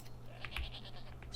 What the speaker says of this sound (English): Let's make these sheep bald,